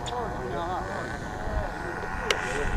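A modified radio-controlled Tower Trainer model airplane with flaps lowered drones faintly overhead at slow speed, a steady engine whine under a person talking.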